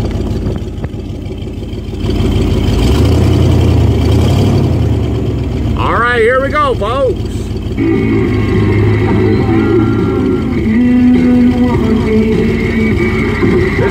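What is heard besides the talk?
Ford E150 van engine noise in cab, engine cover removed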